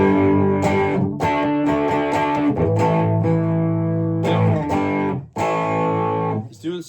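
Electric guitar played through a Rainger FX Minibar distortion pedal on the bridge humbucker, producing loud, thick distorted chords and riffs with sustained ringing notes and brief gaps between phrases.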